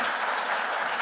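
Audience applause at the Playford Trust Awards 2024 ceremony welcoming a new partner from Capel: dense, steady clapping from many hands, even in level throughout, with no voices over it.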